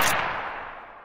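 Automatic Desert Eagle pistol fire in the game Phantom Forces: a single loud, sharp gunshot crack at the start that decays into a fading echo over about a second, with no talk.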